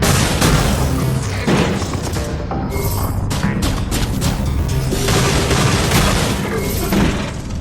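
Repeated gunfire in the video game The Fall, with dense booming shots and impacts packed together over loud continuous game sound and music throughout.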